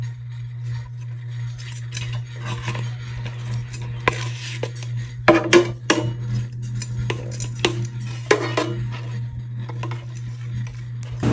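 Grilled chicken pieces are flipped in a Ninja dual air fryer basket: scattered metallic clinks and scrapes of tongs against the basket over a constant low fan hum, with a cluster of sharper knocks midway.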